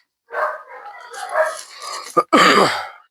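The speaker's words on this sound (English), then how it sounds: "There the dogs are barking." A few loud, close dog barks, sharp and uneven, ending in a longer bark burst.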